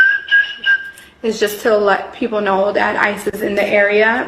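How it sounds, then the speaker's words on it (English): A brief, steady whistle used as a street warning that ICE immigration agents are nearby in Chicago, sounding once before close speech takes over the rest of the moment. "The short whistle sound like this"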